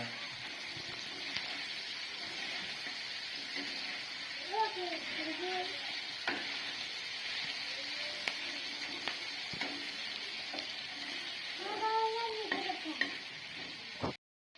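Chicken fries in an iron pan under a constant, even sizzle, with scraping stirs throughout and a voice briefly audible now and then.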